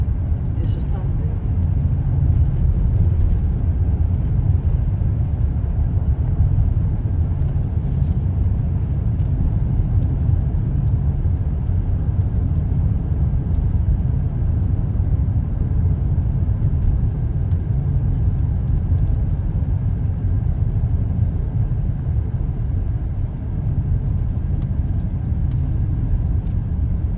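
A car drives through historic Pineville, South Carolina, with a steady, loud low road rumble and engine drone heard from inside the vehicle throughout.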